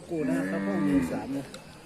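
Cattle at a northern Thai livestock market give a loud, drawn-out moo close by, a single sustained bellow with shifting pitch lasting over a second.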